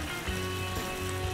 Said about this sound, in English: Can you hear that at home? Can you hear that meat sear?